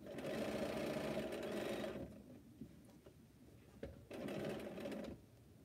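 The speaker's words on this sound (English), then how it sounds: "Just doing some sewing here on Bonnie Hunter's mystery quilt." Sewing machine stitching a mystery quilt, running in two fairly faint steady bursts with a quieter pause of soft clicks between them.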